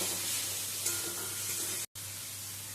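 Giant taro with white sesame sautés in a pan, a steady close sizzling hiss broken by one brief dropout.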